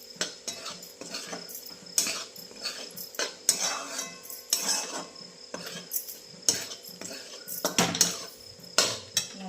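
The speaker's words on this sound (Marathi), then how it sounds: "तिखट टाकून व्यवस्थित हलवून घेतलं आता टाकते शेंगदाण्याचं कूट आणि परत एकदा चांगलं हलवून घेते" Onion chutney with chili powder and crushed peanuts is stirred in a metal pot, sending out repeated irregular clinks and scrapes of a spoon against the pan, close and fairly sharp, with no voices.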